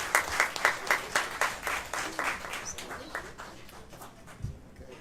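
An audience at a mind, body and soul healing expo applauds as a speaker comes to the stage, a close burst of clapping that gradually thins and fades over a few seconds.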